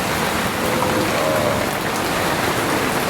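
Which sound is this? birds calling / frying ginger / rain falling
rain falling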